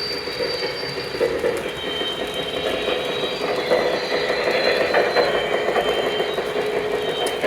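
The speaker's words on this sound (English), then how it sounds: "the flat spot sounds pretty mild as of now, it only worsens." Loud rolling of a small Lionel model train reefer car with a mild flat spot on a wheel, on track with rhythmic clicking and faint metallic squeal, steady and close, no talking.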